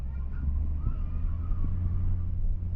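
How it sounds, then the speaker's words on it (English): A 2017 Ford F250 with a 6.7 diesel engine idles steadily after a remote start, producing a constant low rumble that is heard from nearby without pauses. "I'm going to remote start my truck"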